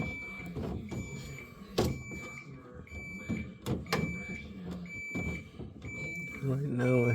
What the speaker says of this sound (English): Right now I have the unit in defrost mode, so that's why it's beeping.